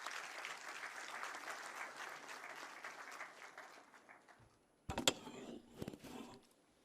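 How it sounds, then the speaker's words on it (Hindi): Audience at a state disaster management authority building inauguration ceremony in Lucknow applauding in steady clapping that fades out, followed by a few sharp, scattered claps and clicks nearby. "आप सबकी तालियों के प्रणाम के अभिवादन के"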